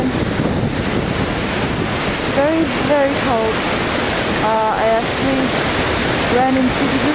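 A waterfall on Iceland's Golden Circle roars as a continuous broad rush in cold, windy weather, with wind buffeting the microphone and a person talking over it.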